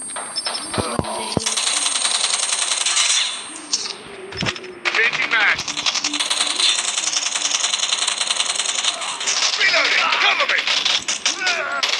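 Gunfire in the Call of Duty game: rapid rattling automatic bursts, loud and crisp, broken by a few sharp single cracks and short pauses, with game effects layered in.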